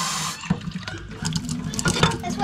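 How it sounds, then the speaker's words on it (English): Tap water runs steadily into a chicken waterer for chicks, a close splashing fill that varies slightly as the level rises, with faint background noise. "fill the water up."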